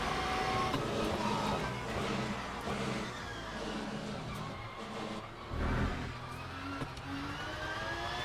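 A Porsche race car engine in the Le Mans Ultimate sim racing game, driven at Spa, gives a continuous whining drone whose pitch rises and falls through gear changes and a chicane, heard alone without talk.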